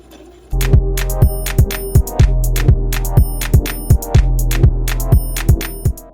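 A sewing machine runs straight stitches through dress fabric for a spaghetti strap dress, a steady mechanical hum with evenly spaced clicking needle strokes in a regular rhythm, close and alone.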